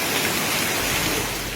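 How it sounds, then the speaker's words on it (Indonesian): Heavy rain with hail and strong wind in the mountains of Maros, South Sulawesi, Indonesia: a dense, continuous, loud roar of downpour with no pauses. "hujan deras dan angin kencang melanda wilayah Kabupaten Maros, Sulawesi Selatan yang mengakibatkan fenomena hujan es terjadi"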